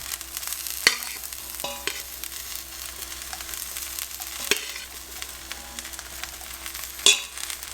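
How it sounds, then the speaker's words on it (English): Vegetables stir-frying in a pan for a vegan teriyaki dish, a low steady sizzle punctuated by a few sharp utensil knocks against the pan, with no talking. "You can stir fry this for a couple of minutes until the vegetables are tender."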